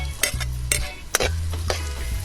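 Garlic sautés in a pan, with a continuous frying hiss broken by several sharp scraping stirs of a utensil against the pan, and a low steady hum underneath.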